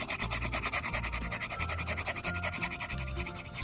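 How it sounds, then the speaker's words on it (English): A thin layer of deer fat being scraped from a solid block, a steady continuous rubbing scrape close up with no pauses. "Scrape it all down until it's all white."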